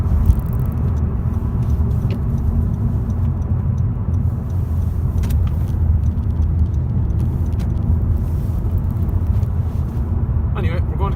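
A Honda Civic i-VTEC Sport on a test drive through roundabouts, heard from inside the cabin as a loud, steady low engine and road rumble that continues without a break.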